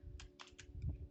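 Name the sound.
typing an IP address on a computer keyboard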